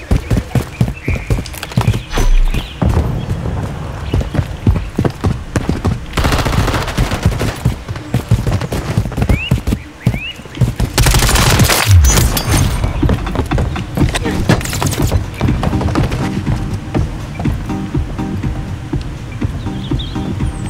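Call of Duty Modern Warfare 3 gunfire rings out in rapid bursts and single shots over a steady layer of game music, loud and close throughout, with a few sharper, denser volleys.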